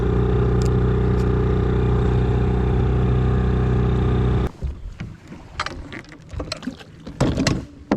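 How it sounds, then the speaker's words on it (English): A fishing boat motor idles on a low river in a loud, steady drone for about four seconds, then cuts off abruptly, leaving faint knocks and rustling. "we're not really running, we're just kind of idling"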